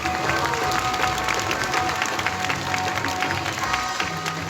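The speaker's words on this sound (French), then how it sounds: "Nous pouvons les applaudir bien fort" An audience at a sea lion show at ZooParc Beauval applauds steadily, dense clapping filling the whole stretch with a faint murmur of crowd underneath.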